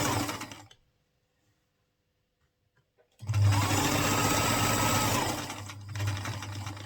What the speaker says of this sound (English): Then I'll sew on it.